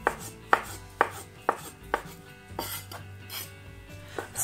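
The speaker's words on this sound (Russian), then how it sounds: "Теперь небольшим кубиком нарежем копченую курицу." A knife chops a large smoked chicken leg into small cubes on a board, giving a run of sharp, evenly spaced chops that soften and blur toward the end, close and clear with no talking.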